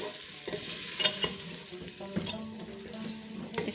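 Ground spices for nalli nihari fry and sizzle in hot oil while being stirred, with a continuous hiss broken by soft scraping strokes and light clinks of the spoon against the pot.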